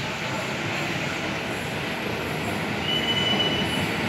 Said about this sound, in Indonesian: ini dia kereta yang ke arah Bogor.